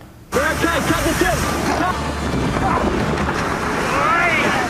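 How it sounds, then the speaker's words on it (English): A gigantic racing catamaran sailing fast across San Francisco Bay, a steady roar of rushing water and wind close by, with voices and shouts heard over it throughout. "A gigantic catamaran in San Francisco Bay sailing too close to the wind."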